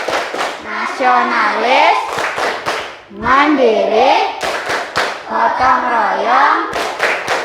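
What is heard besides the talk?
class clapping a rhythmic PPK clap chant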